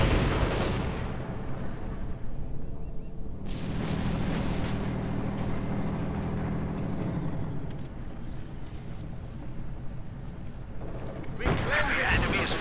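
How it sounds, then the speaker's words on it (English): Gunfire and cannon shots hitting a T-34 tank in the strategy video game Company of Heroes 2, with booming bursts and rumbling battle noise at moderate level and a sharp blast near the end. "The enemy is firing on our T-34"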